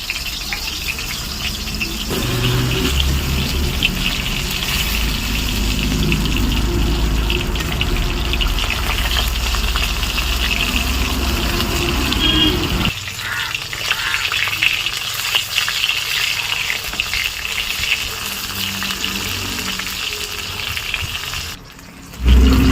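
Eggplant slices fry in mustard oil in a wok, giving a loud, steady close-up sizzle that runs without pause and thins out in the last few seconds.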